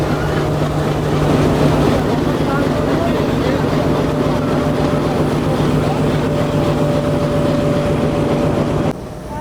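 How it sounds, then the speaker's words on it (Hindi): A Hitachi 2000-horsepower diesel locomotive of Pakistan Railways, from the Rawalpindi shed, runs with a loud steady engine drone and a constant low hum close by, then the sound drops abruptly near the end. "तो 2000 हॉर्स पावर का लोकोमोटिव है ये।"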